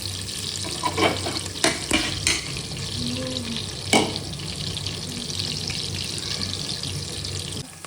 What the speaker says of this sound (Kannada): ಚೆನ್ನಾಗಿ ಫ್ರೈ ಆಗಲಿ ಆನಿಯನ್.